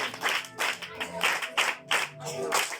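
A group of children clapping in a classroom, with several bursts of quick, uneven claps that rise and fall in waves and sit close to the listener. Faint voices mix in.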